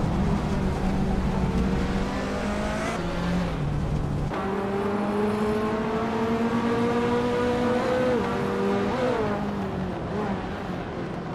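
A classic 1985 Ferrari 288 GTO and other vintage cars race at the Aintree Vintage Track in a video game, their engines droning loud and steady, rising and falling with gear shifts and revs throughout.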